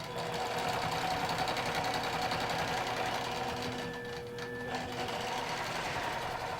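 A QBOT quilting robot drives a sewing machine through line quilting with curves, a steady rapid mechanical stitching hum that runs without pause, close and even, with a slight dip in pitch near the middle.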